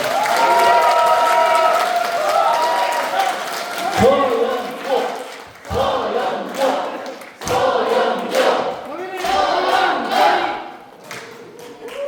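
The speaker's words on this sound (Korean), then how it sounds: "모두 큰 박수 부탁드리겠습니다." A crowd at a political lecture event applauds and cheers in loud bursts, the clapping broken by brief pauses and shouted chants between waves, with a voice on a loudspeaker over it.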